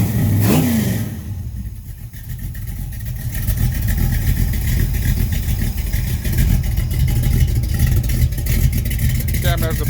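A rebuilt 360 V8 with 596 heads, Sealed Power 9.25:1 pistons and a lopey 480/480 cam idles loudly and close, with an uneven rumble and a brief blip near the start.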